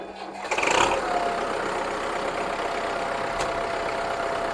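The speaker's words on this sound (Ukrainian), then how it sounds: "Зараз пропоную вам завести трактор і послухати роботу двигуна." A 2012 MTZ Belarus 82.1 tractor engine cranks briefly, catches, and settles into a steady, close rumble.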